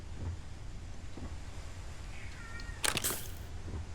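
In the video game Starfield, a cat gives a short, thin meow over a steady windy background hum, followed by a brief burst of crackling noise.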